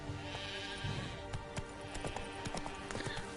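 Roach, a horse in the video game The Witcher 3, galloping with quick rhythmic clip-clop hoofbeats over a dense background, fairly close and steady throughout.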